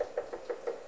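Quick knocks on a door in the Silent Hill Shattered Memories video game, about four evenly spaced raps in under a second, close and fairly loud with no talk over them.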